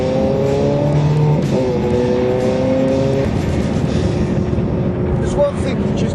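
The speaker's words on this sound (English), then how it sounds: "that incredible noise it makes. Just drop a gear, put your foot down." Ferrari 430 Scuderia engine revs hard under acceleration, a loud, continuous high-pitched wail with rising harmonics that shift as the gear drops, heard from close inside the car.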